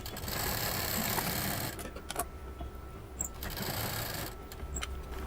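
A sewing machine stitches fabric pieces of a reversible shopping bag together, running in a steady close whir with short slowdowns and restarts, with no talking.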